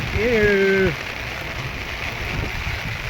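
Rain falling on a tent at a pilgrims' camp, a constant hissing patter that persists after a brief whistling tone in the first second.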